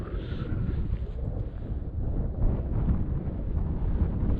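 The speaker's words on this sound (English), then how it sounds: "There's a wee wind just now," Strong wind on a Scottish mountain buffets the microphone with steady, loud, low rumbling gusts that swell and ease with no pause, and no voices are heard.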